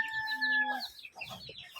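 Day-old chicks and hens on a Kerala poultry sale cheep in high, rapid peeps, then give soft, low clucks nearby, a busy mix of small bird calls with no talking.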